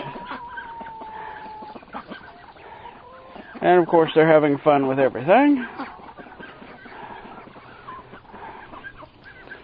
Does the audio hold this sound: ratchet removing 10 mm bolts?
no